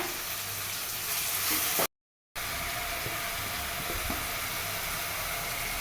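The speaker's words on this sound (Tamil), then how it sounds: "இது பூண்டு இஞ்சி பூண்டு மிளகு வதக்கிடுவோமா" Garlic, ginger and pepper sauté in a pan for a Madurai fish curry, making a dense, even hiss that runs continuously apart from one brief cut to silence.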